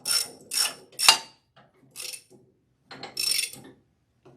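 A ratchet tightens a cross-threaded bolt on an AGT flail mower, heard as several short, close bursts of rapid clicking separated by brief pauses.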